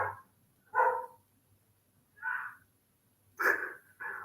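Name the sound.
dog barking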